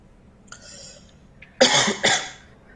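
Two harsh, loud coughs close together, preceded by a faint breathy throat sound.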